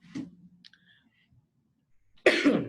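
A single cough near the start, then quiet with a few faint clicks, followed by a loud, harsh burst of coughing or throat clearing at the end, during a substitute teacher orientation.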